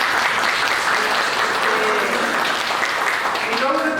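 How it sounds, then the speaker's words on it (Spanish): Sustained applause from a church congregation at a Sunday service, loud and even from start to finish, with faint voices mixed in beneath the clapping. "y le damos un aplauso también, ¿cierto?"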